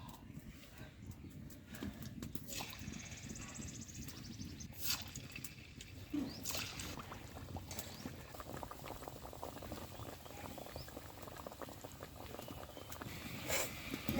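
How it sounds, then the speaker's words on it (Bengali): Semolina pitha fries in hot oil, a continuous soft bubbling sizzle with faint crackles throughout, heard fairly quietly and close with no talking. "আমার তেলটা গরম হয়ে গেছে। এখন আমি পিঠাগুলো দিয়ে দেব।"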